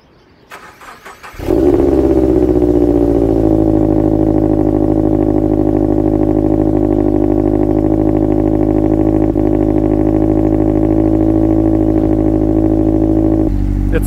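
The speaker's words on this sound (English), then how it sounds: "I'm gonna give you guys a cold start of my new exhaust" A Scion FR-S engine with a new muffler cranks and fires up on a cold start, then settles into a loud, steady, deep idle rumble from the exhaust that continues unbroken.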